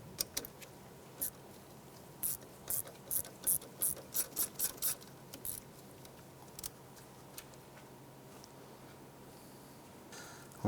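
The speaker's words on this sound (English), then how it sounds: "Using an 8mm socket, we're going to go ahead and remove the bolt holding the ABS sensor into the hub" Ratchet with an 8mm socket turning out an ABS sensor bolt on a 2001-2007 Ford Escape hub knuckle, a quick series of sharp clicking strokes in an irregular rhythm, close, followed by quieter handling.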